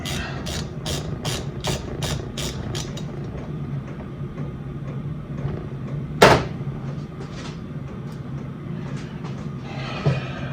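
A ratchet clicks in a quick series of regular, close strokes while tightening a part on a Kawasaki H2 750 carburettor, followed by quieter workshop handling and a sharp clunk.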